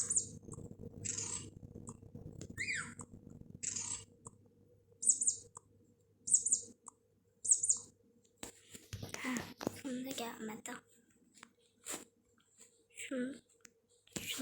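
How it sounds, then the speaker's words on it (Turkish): Short, high chirps repeat every second or so in the first half, with soft rustling and handling noises and quiet whispery sounds scattered throughout. "Ay kuş geliyor ya."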